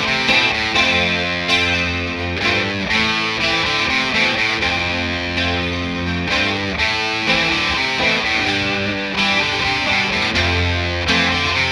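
Distorted electric guitar lead played loud over a looped rhythm guitar part from a looper pedal, with sustained notes and bends running continuously.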